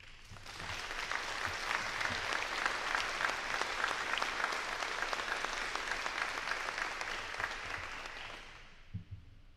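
An audience at a nursing pinning ceremony on the Worthington campus applauds Brenda Pomeranke, a sustained round of clapping from a large crowd that holds steady for several seconds, then fades out at the end.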